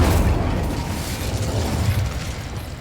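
Incendio fire spell cast in Hogwarts Legacy: a steady roaring burst of flame with deep rumbling low end, sustained and loud for under three seconds, with no talking.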